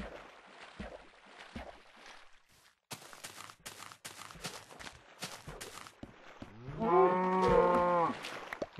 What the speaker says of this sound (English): Cow there. There's cows there. Yes, cows.